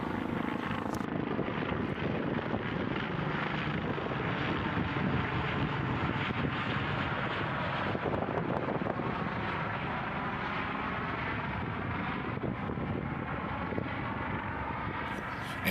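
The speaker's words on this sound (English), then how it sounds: "this helicopter flew directly overhead" A helicopter passes directly overhead, its steady rotor thrum filling the air loudly and evenly throughout, with some wind buffeting against the microphone.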